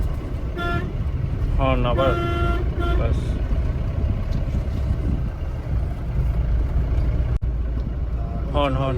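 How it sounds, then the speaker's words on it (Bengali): A car horn gives several short toots during a beginner driving lesson, heard over a steady rumble of engine and road noise, with a voice speaking nearby. "হর্ন আবার, বাস।"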